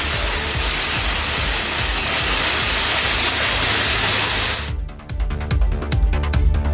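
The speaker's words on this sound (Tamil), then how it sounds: "சிவகங்கை மாவட்டம் மானாமதுரை சுற்றுவட்டாரத்தில் இடி மின்னலுடன் 1 மணி நேரத்திற்கு மேலாக கனமழை பெய்தது." Heavy rain pours steadily around Manamadurai in Sivaganga district, a dense unbroken hiss for most of the clip. Near the end it shifts to a sparser, clattering texture with scattered drips and low rumbles, and no distinct thunderclap stands out.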